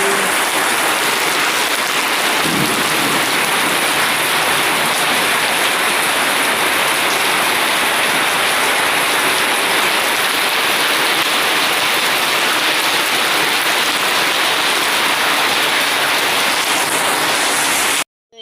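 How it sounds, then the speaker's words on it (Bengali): Heavy rain pours steadily in Kushtia, a dense, even wash of falling water that runs without pause for the whole stretch, loud and close with no voices. "ভালো জোরে বৃষ্টি হচ্ছে।"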